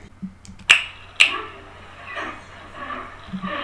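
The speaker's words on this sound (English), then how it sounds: "I'm going to go look for where I clapped, which is right here" Two sharp hand claps, about half a second apart, made to sync audio with video. They are crisp and close, with faint room noise and brief quiet vocal sounds around them.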